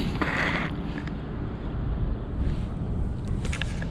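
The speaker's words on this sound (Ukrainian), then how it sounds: "О, блін, вітер подув." Wind blows across a frozen lake during ice fishing, roaring against the microphone in steady low gusts with a few brief higher rustles.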